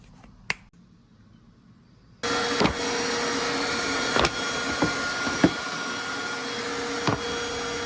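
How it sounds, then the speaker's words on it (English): A vacuum cleaner switches on after a short quiet spell and runs steadily on the interior carpet of a 2007 single cab Toyota Tacoma, with occasional knocks and clicks as the nozzle moves. "Get this all vacuumed up."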